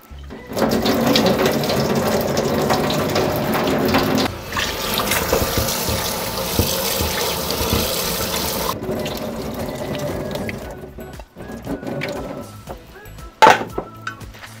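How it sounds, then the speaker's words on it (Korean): Soaked seaweed being rinsed under a running tap, a steady loud splash of water over a sink with clinks from the bowl, easing off after about nine seconds into quieter handling and a sharp knock near the end. "이 미역을 물로 한번 씻어 줄게요."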